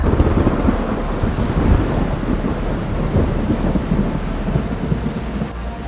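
Heavy rain pours steadily through a thunderstorm over a lake, with deep rolling thunder rumbling continuously and loudly beneath the downpour.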